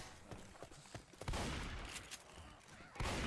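Bursts of gunfire from the co-op zombie shooter Left 4 Dead 2 during a tournament match, sharp shots scattered across the clip with a loud cluster near the start and end over steady game noise.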